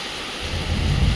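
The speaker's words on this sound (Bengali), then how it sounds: "কাছে যেতে পারছি না এত বৃষ্টি জল গায়ে লেগে যাচ্ছে" Heavy monsoon rain with strong wind on a street, a broad roaring wash that swells into a deep rumble like close thunder over about a second.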